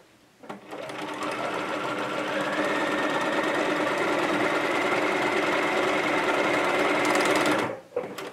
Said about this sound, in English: I'm going to stitch from here to here.